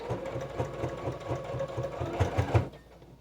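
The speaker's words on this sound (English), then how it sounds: "Coming to the end, I'm going to double stitch here." A sewing machine double stitching through layered apron fabric runs in a fast, rhythmic mechanical chatter close by, with short bursts of steady stitching and a slight speed change near the end.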